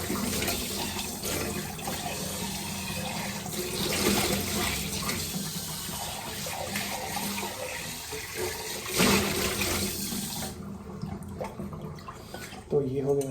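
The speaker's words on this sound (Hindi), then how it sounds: "पहले बर्तन तो साफ कर लें" Running tap water splashes steadily as dishes are washed in a sink, a continuous watery hiss with clatter that stops abruptly near the end, while someone talks over it.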